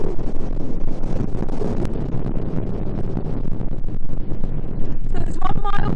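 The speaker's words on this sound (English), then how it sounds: "So it's somewhat windy on the top." Strong wind on a Dorset clifftop buffets the microphone with a constant loud roar and rumble, gusting throughout, with a voice faintly under it.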